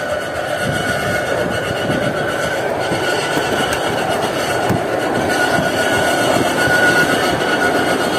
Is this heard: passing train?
yes